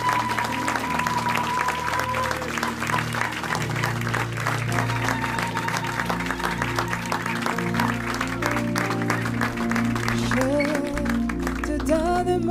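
A church congregation claps together while worship music keeps playing underneath, the steady applause blending with sustained instrumental tones for the whole stretch.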